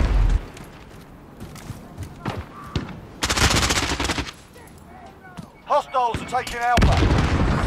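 Gunfire and a grenade blast in a team-based military shooter video game, with bursts of rapid shots, sharp booms and a loud sustained explosion, while players shout briefly over the chaos.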